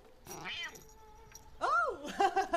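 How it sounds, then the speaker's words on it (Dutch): A cat yowls and caterwauls in a drawn-out, wavering cry, starting with a short wail and then rising into a louder, warbling song. The sound is close and clear against a quiet background. "Is dat uw kat die ik hoor zingen?"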